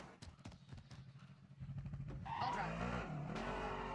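A vehicle drives in Call of Duty Warzone, with an engine that builds from a low rumble to a louder revving growl, plus tire and skid noise, all close and continuous.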